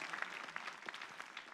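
A church congregation claps together in a short, faint burst of applause.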